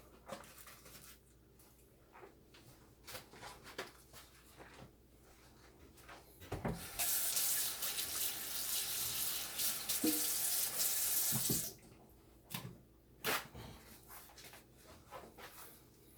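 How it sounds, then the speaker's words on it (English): A kitchen faucet runs while hands are washed during meatloaf prep: about four seconds of steady, close gushing water in the middle, framed by quieter kitchen clatter before and after, with no talking. "we're gonna wash our hands again"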